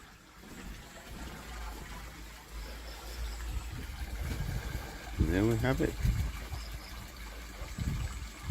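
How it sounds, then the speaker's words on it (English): Pond water pumped unfiltered over a homemade fake rock waterfall splashes and trickles in a steady wash, while someone talks over it briefly near the middle. "It's just to test the waterfall."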